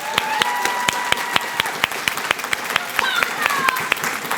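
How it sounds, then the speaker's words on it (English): An audience at a practical nursing graduation ceremony gives a steady round of applause, a crowd of claps with sharp individual hits standing out, while a voice speaks over it. "Alexa Sanchez, Kaylee Vaughn, Logan Wiggins, Give them a round of applause one last time."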